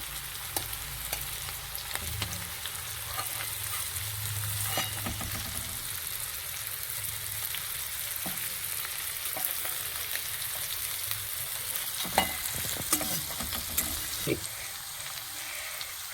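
Pakoras sizzle softly in hot oil while being lifted out, with a continuous low crackle broken by scattered clinks and scraping from a utensil.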